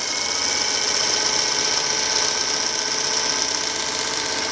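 A vintage Singer Featherweight 221 sewing machine runs at a steady speed, giving a continuous close whirring hum with a fast, even mechanical chatter and no pauses.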